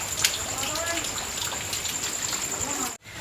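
Heavy nighttime rain pours steadily as a dense, continuous wash of noise, with a brief dropout near the end.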